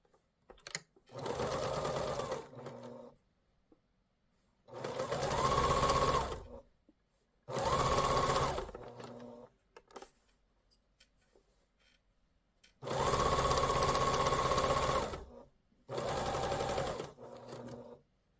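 A sewing machine stitches quilt binding in five separate bursts of steady rapid whirring, each lasting one to two seconds, with quiet pauses between them. The sound is close and has no talking over it.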